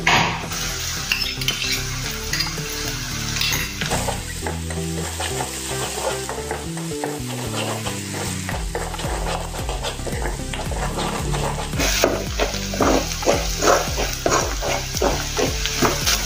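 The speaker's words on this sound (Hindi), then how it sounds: "प्याज, हरी मिर्च और अदरक लहसुन का पेस्ट भी अच्छे से तेल में भून लिया है हमने" Onion, green chili and ginger-garlic paste sizzle and fry in hot oil for cabbage sabzi, with steady crackling, stirring scrapes and clinks of a spoon against the pan throughout, close and busy.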